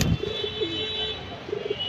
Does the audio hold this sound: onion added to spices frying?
no